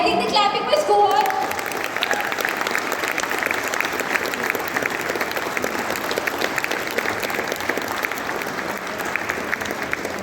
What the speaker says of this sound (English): I think the clapping must go on.